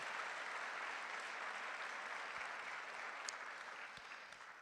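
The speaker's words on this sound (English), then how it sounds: "You mind just giving a hand of applause to my friends for their courage." Steady applause from a church congregation honoring people who shared a bear attack story, an even wash of clapping that holds fairly constant and tapers slightly at the end.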